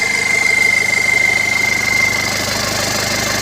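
A car engine with a large turbocharger runs loud and close with a rough, pulsing rumble and a steady high turbo whine that fades out toward the end.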